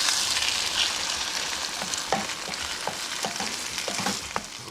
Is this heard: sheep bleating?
no